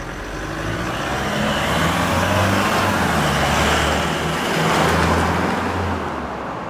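A Toyota Hilux GUN125 fitted with a Ganador muffler drives at low speed, its steady low exhaust drone and road rumble filling the recording continuously and loudly, swelling slightly twice.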